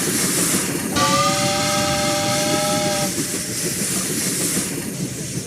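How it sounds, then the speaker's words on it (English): A train rumbles and hisses close by, with a sustained metallic squeal rising for about two seconds before fading back into the steady rolling noise. "Finally, the train pulled into the station."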